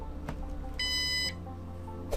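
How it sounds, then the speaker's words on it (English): A single steady electronic beep from a drone battery charging dock, about half a second long, rings out clearly over a low background hum, signalling a fully charged battery. "You'll hear a beep when the battery is fully charged"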